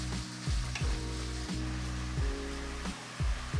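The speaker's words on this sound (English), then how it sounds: "Make sure it's hot so we get a nice sizzle when we add in the meat." Pork hits hot oil in a frying pan and sizzles steadily up close, with a crackling hiss and occasional stirring knocks.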